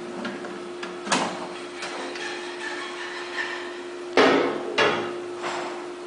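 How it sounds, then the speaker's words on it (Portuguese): Snap-fit cover pried off a coil winding machine: a few sharp plastic clicks and knocks, one louder pop near the end, over a steady low hum. "Você retire a tampa, ela é totalmente de encaixe."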